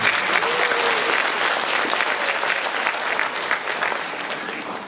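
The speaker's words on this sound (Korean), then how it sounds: "우리 다 같이 한번 박수 한번 쳐." A crowd applauds at a civic celebration festival in Pocheon, sustained dense clapping that fills the clip evenly and loudly, with a whistle-like tone near the start and no talking.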